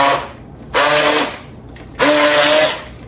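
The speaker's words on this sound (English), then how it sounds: "Love my immersion blender." An immersion blender whirs in a pot of butternut squash soup, two loud close bursts of motor whine separated by brief pauses, no talking.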